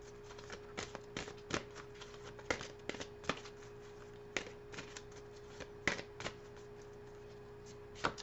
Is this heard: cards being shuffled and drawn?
yes